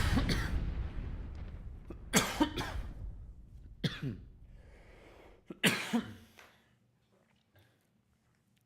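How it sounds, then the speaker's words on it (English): A person coughs repeatedly at close range in several rough bursts with throat clearing between them, fading to quiet breathing toward the end. "That's why I'm coughing so much shit."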